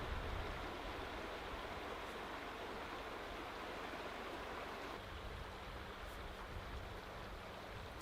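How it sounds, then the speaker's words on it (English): River flowing beside a campsite in Wyoming, a steady, even rush of water that holds without pause, close and moderately loud. "I have the river right off to my left"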